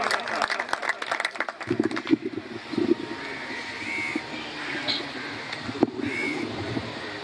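A gathering of the Lodhra community in Chishtian gives a short burst of clapping to welcome Junaid Lodhra, fading after about two seconds into a voice over outdoor background noise.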